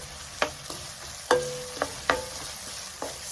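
Onions, garlic and thyme sweat in melted butter in a pot for a Trinidadian corn soup, giving off a faint soft sizzle broken by several sharp clinks and scrapes of a spoon stirring against the pan.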